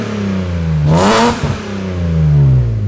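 A BMW running a swapped M54 engine revs hard once, the note climbing and falling back to a rough idle, loud and close with no talk over it.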